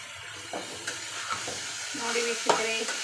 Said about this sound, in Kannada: ಉಳ್ಳಾಗಡ್ಡಿ, ಟೊಮೆಟೊ ಹಣ್ಣನ್ನು ಹಾಕಿ ಇವಾಗ ಹುರಿತಾ ಇದ್ದೀನಿ